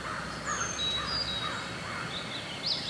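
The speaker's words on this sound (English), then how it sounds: "Crows are going off." Several harsh caws from crows at a distance, repeated in loose bursts over quiet outdoor background.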